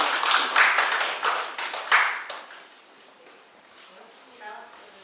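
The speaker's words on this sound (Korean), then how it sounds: "박수로 도움 맞아주시기 바랍니다." An audience claps to welcome speakers at a book talk held at a Korean modern literature museum. The clapping is brisk and close at first, then thins out and fades within a couple of seconds.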